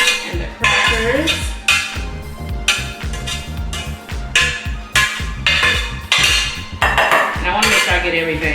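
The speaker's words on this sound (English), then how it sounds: "we're going to place it into this bowl with the cornbread and the crackers" Utensils clink and scrape against a bowl as cooked vegetables are added to cornbread and crackers for soul food cornbread dressing, a steady run of close, fairly loud kitchen clatter.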